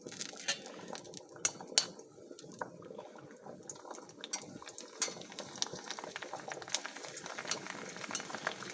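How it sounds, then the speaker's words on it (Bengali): Hot mustard oil crackles and spatters with sharp pops and bubbling as papad fry, joined by occasional clinks of a utensil against the pan, close by with no talking. "তেলটা গরম হয়ে গেছে ভেজে নেব কয়েকটি পাঁপড়"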